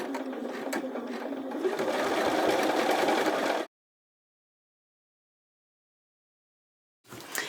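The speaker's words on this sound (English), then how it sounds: "then I'm going to top stitch" Sewing machine top stitching the elastic waistband of Florence pants, catching the pocket bag underneath: a steady close run of needle stitching that stops abruptly, leaving silence, then restarts briefly at the end.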